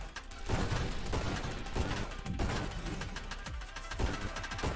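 Rapid-fire shooting in the space shooter Nova Drift, a fast stream of quiet, punchy shots with soft booms and crackles repeating throughout, steady and faint.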